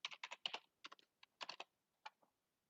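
Password typed on a computer keyboard: quick bursts of close, crisp key clicks in uneven clusters, then a pause and a few final taps, with no talk.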